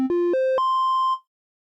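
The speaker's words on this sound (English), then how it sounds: "Now a triangle wave," Triangle wave from the Uranos synthesizer on a Maschine Plus: a bright, slightly buzzy tone rising in four quick pitch steps, then sustaining one note for about half a second before ending abruptly, alone with no other sound.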